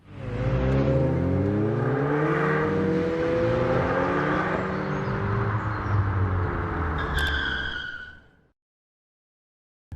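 A turbocharged Mk1 Mazda MX-5 drives along the road, its engine droning loud and steady with rising and falling pitch through gear changes before cutting off abruptly near the end.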